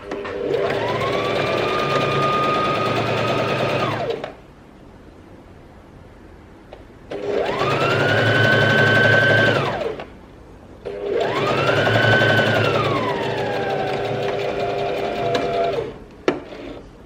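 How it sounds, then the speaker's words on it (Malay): A sewing machine stitches a sleeveless dress in three long, steady whirring runs with rising and falling motor pitch, separated by quiet pauses. "So kita akan start jahit"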